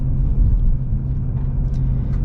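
Low, steady rumble of a 2026 Ford Mustang GT V8 with a manual transmission, heard from inside as the engine pulls evenly with a brief swell early on, loud and close with no talking.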